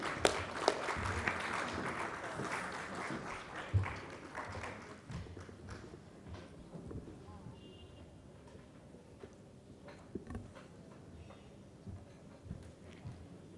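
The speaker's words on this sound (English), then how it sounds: "let's put our hands together for a thunderous applause once again" An audience at the 2016 International Galvanizing Conference claps in a hall. A faint, patter-like applause swells early, then thins to scattered claps and taps.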